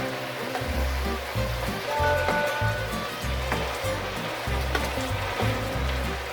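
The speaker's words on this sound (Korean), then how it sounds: "지금 2분 정도 끓었거든요" Pasta and sauce boil together in a single pan over high heat, giving a steady bubbling, sizzling wash with popping blips, close and continuous, with no talk.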